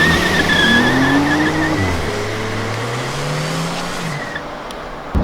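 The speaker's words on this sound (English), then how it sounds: "Ready to watch some slidey cars?" Drift cars slide around the Willow Springs track with loud, sustained tire squeal and revving engines, several pitch sweeps rising and falling over about five seconds, close and continuous.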